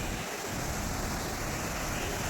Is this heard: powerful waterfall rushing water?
yes